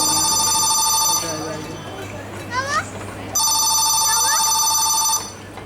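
A telephone rings as a sound effect in a staged Bengali audio drama, two loud electronic ring bursts separated by a pause, with a voice and child-like chatter briefly between them.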